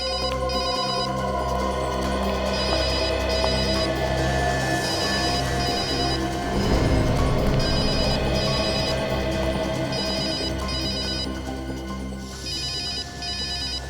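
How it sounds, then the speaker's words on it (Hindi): A telephone rings steadily in repeated electronic bursts over a background music bed, continuing for the whole stretch with no one speaking. "फोन कहां बज रहा है?"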